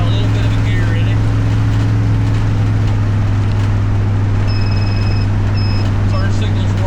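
A 1963 Ford Falcon cruising at 55 mph around 2,500 RPM, a steady low engine and road drone with wind noise from inside the car, continuous and loud, with a person talking over it.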